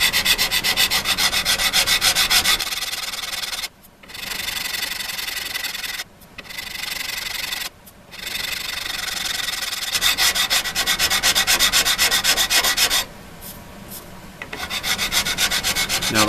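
Fret file working across guitar fret tops to crown them: steady, close metallic rasping strokes in long runs, broken by a few brief pauses, with no talk.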